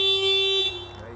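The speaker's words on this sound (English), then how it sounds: "So the alarm will be activated." A Honda car alarm sounds a loud, steady electronic tone briefly, then cuts off, leaving quieter background noise.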